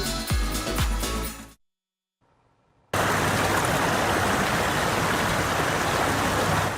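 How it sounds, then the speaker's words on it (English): Water gushes from a broken water main onto a street in South Los Angeles, a loud, steady roaring rush that follows a brief quiet gap after a short bit of another sound. "You can see water just gushing out onto the streets."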